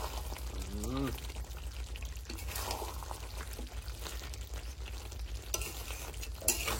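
Duck meat sizzles and crackles in a pan as it is stir-fried dry with garam masala for a thick curry, with steady scraping stirs throughout and a brief voice near the start.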